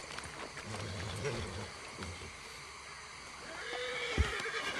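A horse whinnies and snorts amid a busy, noisy Red Dead Redemption II game soundscape, with a low thud near the end.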